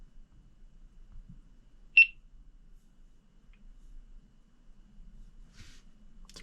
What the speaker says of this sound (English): It's a pretty loud beep.